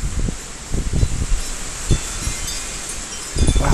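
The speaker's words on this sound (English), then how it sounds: "I mean, that wind is ferocious." Ferocious wind gusting outdoors, buffeting the microphone with loud, roaring rumbles that surge and ease in waves, with rustling noise throughout.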